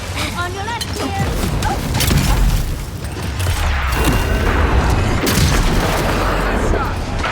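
Gunfire in the Avowed video game rings out in a busy combat scene: repeated sharp shots and booms over a layer of battle noise, with voices calling out in between.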